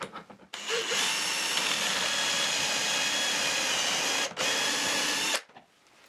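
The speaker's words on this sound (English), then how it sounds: "I drill one at each end of the panel." A power drill bores a dowel hole into melamine-faced particle board, giving one steady, close whine of about five seconds that starts and stops abruptly.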